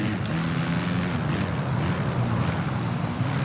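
A Honda motorcycle engine in the VR46 racing video game drones steadily at high revs, a loud continuous buzzing hum with faint rushing wind, and no clear break where a gear change stands out.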